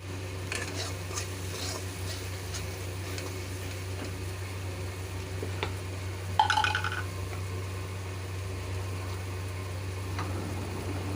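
Pabda fish curry cooking in a pan with spices, giving a low steady simmer and soft bubbling, with scattered spoon stirs and one louder metallic clink midway, near and fairly quiet, no voices.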